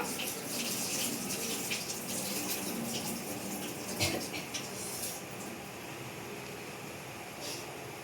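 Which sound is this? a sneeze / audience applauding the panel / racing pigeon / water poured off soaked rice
water poured off soaked rice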